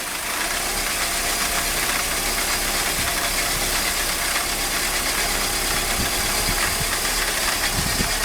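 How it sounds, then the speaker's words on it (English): A Mercedes M104 engine with faulty throttle body wiring runs roughly at a steady idle, misfiring, with uneven knocks and stumbles breaking through the continuous rumble. "the car started to run at steady speed more or less, but misfires badly"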